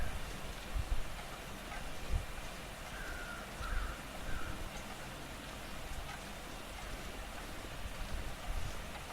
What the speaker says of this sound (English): Just listening out for the crows.